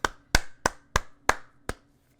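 Six sharp, dry hand claps ring out alone at a slightly uneven, moderately slow pace, each a crisp close snap with a short tail, then silence.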